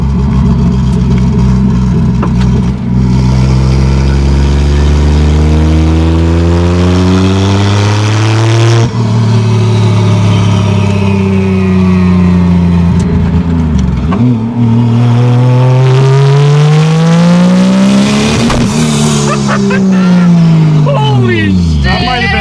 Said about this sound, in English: the turbo sounds so good